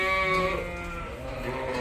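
Sheep on a farm during lambing season give a loud, close, drawn-out bleat that wavers and trails off, with more livestock noise in the background.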